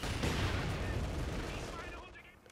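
Mortars firing in the World War II strategy game Company of Heroes 2, a muffled cluster of booming shots at moderate level that fades out over a couple of seconds.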